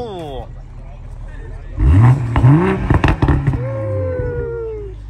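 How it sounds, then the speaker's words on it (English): A BMW 340i with an M Sport exhaust revs hard in a couple of loud, rising bursts followed by crackling pops, close by, with a voice heard just before. "Apparently, it has an M Sport exhaust."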